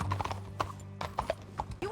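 Horse hooves clip-clop at a steady trot in the video game Red Dead Redemption II, sharp, close hoofbeats with faint background ambience.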